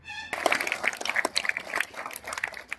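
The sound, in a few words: loud applause from students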